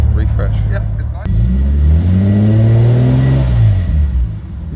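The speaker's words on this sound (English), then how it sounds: "So now the car's all nice and warmed up, you'll see that the engine runs really smoothly." A Kenmeri C110 Nissan Skyline, warmed up after its first start during restoration, idles with a deep rumble and revs up smoothly, rising and falling in pitch close by, with voices talking briefly at the start.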